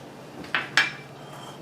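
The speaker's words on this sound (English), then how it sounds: "Let me just do a pretty good job of mixing up here" Bread flour and salt mixed in a bowl for pizza dough, heard as two distinct clinks of a utensil against the bowl over a quiet background, close and with no speech.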